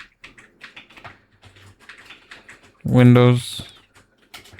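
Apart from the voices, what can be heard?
typing on a computer keyboard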